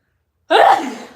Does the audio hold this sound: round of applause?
no